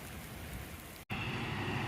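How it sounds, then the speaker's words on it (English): Rain falls on a street corner in Athens, Pennsylvania, a steady, fairly close hiss of drops on surfaces that breaks for a split second before resuming slightly louder. "Yay, rain is here."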